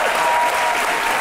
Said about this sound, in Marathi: आपण त्याच्यासाठी जोरदार टाळे वाजवल्या पाहिजे